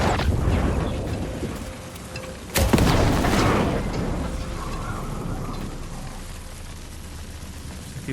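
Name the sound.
gunshot in a video game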